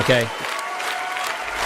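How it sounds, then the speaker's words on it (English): A studio audience cheers and applauds in a broad wash of clapping that carries on after a brief spoken word at the start. "you guys are just cheering over me"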